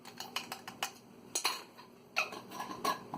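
Yeast being mixed into pizza dough ingredients in a bowl, quiet irregular scraping and clinking of a utensil against the bowl in short bursts.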